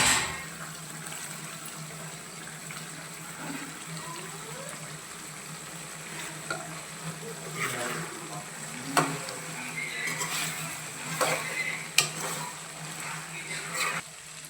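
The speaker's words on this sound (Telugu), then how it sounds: "ఇలా దగ్గరికి ఉడికే వరకు కలుపుకోవాలి" Chicken curry cooking in a pan, village style, stirred occasionally with soft scrapes and clinks over a steady bubbling sizzle, close and fairly quiet with no voices.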